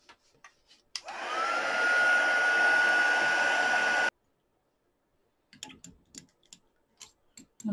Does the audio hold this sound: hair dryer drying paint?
yes